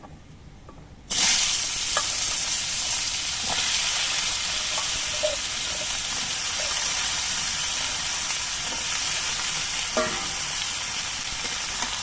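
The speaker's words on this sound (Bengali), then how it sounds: "কালো জিরেটা কয়েক সেকেন্ড ভাজা হওয়ার পর এর মধ্যে আমি সবজিগুলো দিয়ে দিচ্ছি" Vegetables tipped into hot oil with black cumin seeds for a fish dish: after a second of near silence, a loud, dense sizzle bursts in and holds steady, with occasional small stirring clicks.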